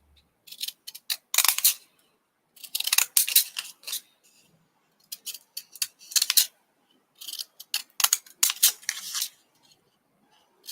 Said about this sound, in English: Where's my scissors? See if we can do a jaggedy edge maybe.